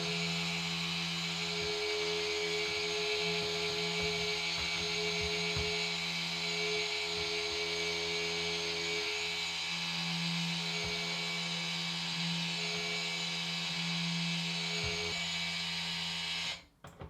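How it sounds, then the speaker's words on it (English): A stick blender whirring steadily as sodium lactate is mixed into lye for cold process soap, a constant high motor hum with faint rhythmic knocks, running alone and close before cutting off abruptly at the end. "I'm just going to blend that in with my lye"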